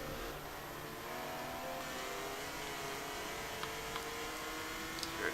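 BMW M3 race car engines in a racing video game give a steady, fairly quiet mid-pitched drone with slight rises, as if heard from a distance. No one speaks.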